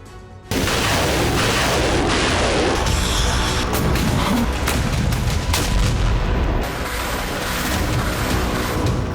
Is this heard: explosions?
yes